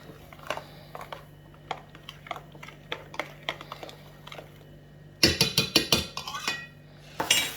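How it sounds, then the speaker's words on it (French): A spoon clinks against a bowl while roughly stirring crepe batter, with light scattered taps that turn into a faster, louder burst of clattering strokes near the end, close and without talk. "on prend juste une cuillère pour remuer grossièrement avant d'utiliser notre mixeur."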